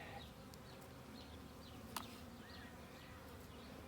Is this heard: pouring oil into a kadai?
no